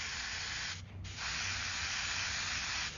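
An airbrush sprays a white and silver paint mixture in a steady, close hiss, with one short pause in the middle and a brief dip near the end.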